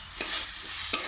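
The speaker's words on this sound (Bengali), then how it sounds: "আলুর সঙ্গে মশলাটা ভালোভাবে কষিয়ে নেব।" Spiced potatoes stirred and sautéed in a pan with a little water for Bengali village-style parotta filling, with a steady soft sizzle and two short scraping stirs.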